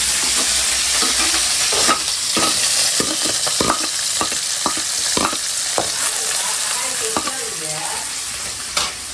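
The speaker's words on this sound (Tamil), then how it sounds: "வெறும் கருவேப்பிலையும் சாம்பார் வெங்காயம், சின்ன வெங்காயம் கட் பண்ணி வச்சு போடுறோம்." Curry leaves and sliced shallots fry in hot oil in a pan, a loud continuous sizzle close up, broken by repeated scraping stirs and knocks of the spatula.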